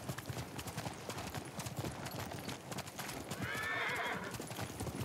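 Horses' hooves clip-clop steadily in the Ghost of Tsushima video game, fairly quiet, and a horse whinnies clearly near the end.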